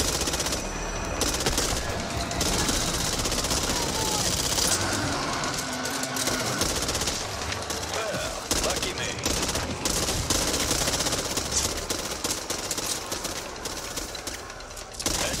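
Automatic gunfire in the zombie shooter game Back 4 Blood, dense and continuous bursts of shots running throughout with voices calling out over the action.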